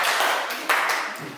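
Students clapping hands in a university classroom after a group presentation on cells and microscopes: a short burst of applause with a couple of sharper claps, moderately loud in a roomy space.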